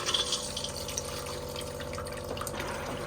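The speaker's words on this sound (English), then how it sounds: "And then you can press the blue button," Flush of a toilet in a 2025 Swift Escape 640 motorhome, run by its fresh-water pump, a soft steady trickle of water into the bowl with faint drips, close and quiet.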